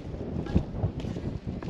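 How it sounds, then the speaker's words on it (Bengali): Strong wind at Ambuluwawa Tower, about 3,500 feet above sea level near Kandy in Sri Lanka, buffets the microphone in a steady low roar with brief gusty thumps, no voices. "প্রচুর বাতাস।"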